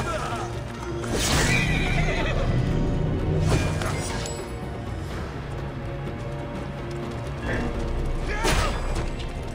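Neighs and whinnies from a horse in the video game Assassin's Creed Origins, with clip-clopping hooves running through a busy game soundscape and a few louder bursts.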